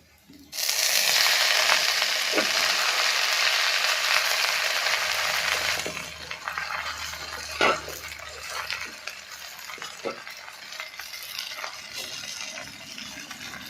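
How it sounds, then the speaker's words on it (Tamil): Onions sizzle loudly in a pan for spinach pepper-tomato stir-fry, the frying dense and steady before dropping to a softer crackle after greens go in, with a few stirring knocks. "வெங்காயம் நல்லா வதங்கிருச்சு அடுத்து வந்து கீரையை போட போகிறேன்"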